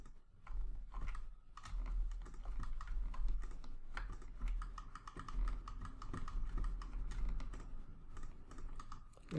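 Keyboard presses and mouse clicks while working in Blender on UV mapping, selecting cylinder edges with Alt and Shift click; soft scattered clicks sit under a steady, fairly loud background hum and room noise.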